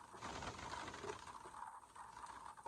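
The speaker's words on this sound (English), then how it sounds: "Oh, it's starting to rain hard now." Hard rain falling outdoors at a bus stop, a faint, steady, even hiss of drops with no other sound over it.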